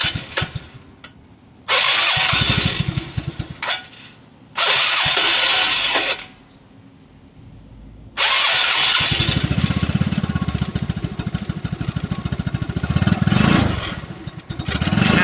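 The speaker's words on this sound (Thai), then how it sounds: "สุพรรณก็เร่งไปเลยเอาจะเบิ้ลจะเร่งแค่ไหน" A Yamaha Fino motorcycle with an aftermarket exhaust and a black-smoke fault revs hard in three loud bursts, each several seconds long, with a quieter idle between them. The last burst is the longest and is held steady.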